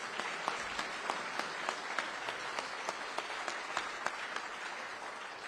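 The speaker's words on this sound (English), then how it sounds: "Please, everybody, give Chief Coleman a round of applause." A room applauds a new police chief in Riviera Beach, an even, continuous patter of many hands with a few louder single claps, heard faint and distant.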